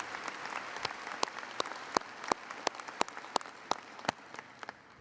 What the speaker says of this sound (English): Let's give him a round of applause after 7 years of leadership.